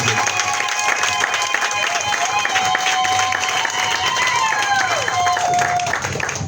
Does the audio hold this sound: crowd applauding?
yes